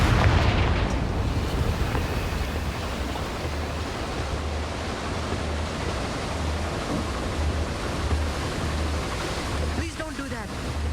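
A Confringo fire spell blasts in Hogwarts Legacy, a rumbling, roaring burst that fills the mix with a dense, sustained wash of noise for several seconds before settling.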